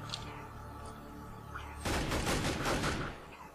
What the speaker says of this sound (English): Sound like a fucking AK-47